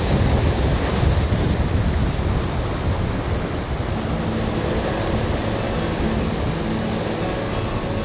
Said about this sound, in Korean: 오늘도 역시 물이 앞으로 달려들고 있어요